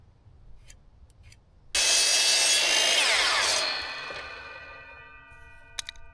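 Power saw fitted with a new blade cutting through a 4x4 timber brace for a water storage canopy: a sudden loud whining roar that holds steady for a couple of seconds, then drops to a lower ringing spin-down, close by.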